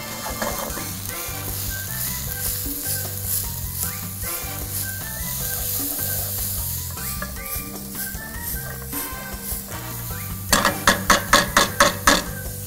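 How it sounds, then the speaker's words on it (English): Vegetables with minced rosemary and sage sizzle in a pan for a Bolognese sauce, a continuous frying crackle with a steady musical bed beneath and a burst of rapid clattering stirs near the end. "we gotta let this cook for about 5 minutes until the vegetables are start to be nice and caramelized"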